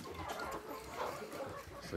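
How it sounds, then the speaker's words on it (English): A rooster kept near a pig pen on a farm gives soft, scattered clucks at middle distance over a steady noisy farmyard background. "we got our rooster boy up here looking out to see what's going on"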